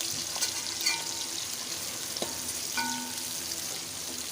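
Finely chopped onions frying in a pan give a steady close sizzle, with a few light stirring clicks and scrapes over the constant hiss.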